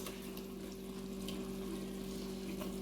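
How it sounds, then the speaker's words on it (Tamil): Raw chicken is rinsed in water for a home-cooked chicken biryani: a soft, continuous wash of running, splashing water under a steady electrical hum, fairly faint, with no talk. "அப்புறம் நல்லா கழுவிட்டு ஒரு அழுக்கு கூட இல்லாம"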